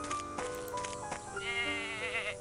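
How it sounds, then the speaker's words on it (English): Goats bleat in a video game, several wavering calls close by over a steady ambient background, with no talking. "More goats."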